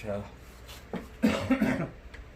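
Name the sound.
cough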